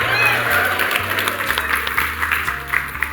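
A live audience at a marketing talk claps and whoops, a steady burst of applause with rising cheers over a low musical bed, loud and close throughout.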